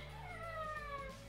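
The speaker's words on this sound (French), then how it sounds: "C'est le chat." A house cat gives a short, faint drawn-out meow with a falling tone, heard indoors at a low level.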